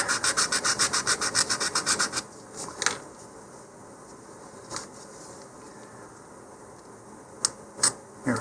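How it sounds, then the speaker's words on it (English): A file rasping a notch into a cardboard model rocket body tube, about fifteen quick rhythmic strokes up close for two seconds, then near silence broken by a few light handling taps. "if you really have to force the knife, you need more filing."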